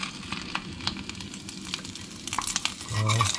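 Bacon sizzles and crackles quietly in a camping pan, with a soft, steady hiss and brief scraping or stirring sounds. The frying swells a little near the end.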